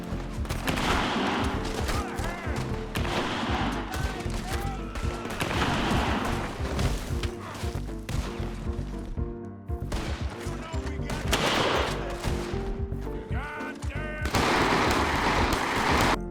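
Rapid bursts of revolver and rifle gunfire from Red Dead Redemption 2 with a realistic weapon audio overhaul mod, loud and dense volleys over a music-like backdrop with a short lull near the middle.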